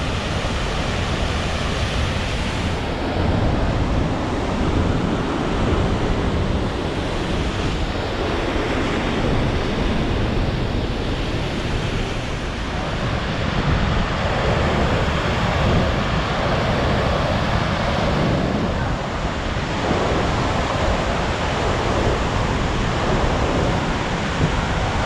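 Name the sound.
waterfall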